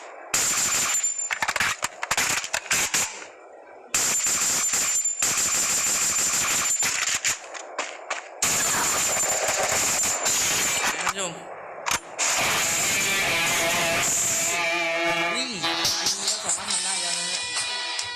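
Bursts of rapid gunfire from a single gun in a shooting video game rattle out in choppy clusters, broken by short silences, with crashing impacts near the end and a voice talking at times.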